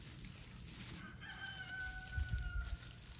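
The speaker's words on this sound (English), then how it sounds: "Yes, Mr. Joe, I hear you out there crowing away, bragging about your girls and all the eggs they're laying" A farmyard rooster crows once in a clear drawn-out call, rising and falling over about two seconds, moderately near, against a steady outdoor background hum with no talk.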